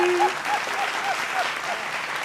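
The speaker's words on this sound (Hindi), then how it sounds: "ताली बजाओ" An audience applauds steadily throughout at a political comedy event, with a voice faintly audible beneath the sustained clapping.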